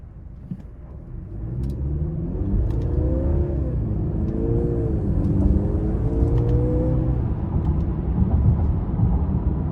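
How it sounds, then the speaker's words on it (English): A 2023 Mercedes-Benz GLC 300 4MATIC in sport mode accelerates through paddle-shifted gears, its engine note climbing in several rising sweeps over a steady low road rumble heard from inside the cabin. "I'm gonna put it into sport mode now. And let's use the paddles here."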